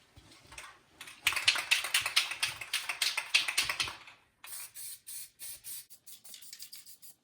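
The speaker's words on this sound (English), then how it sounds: "I'm going to go ahead and spray it here" Aerosol spray hisses onto a brake part from a Honda Fourtrax 300 ATV during a disc brake install, in a long rapid burst of crackly spurts and then a series of short, evenly spaced bursts, close up with no talking.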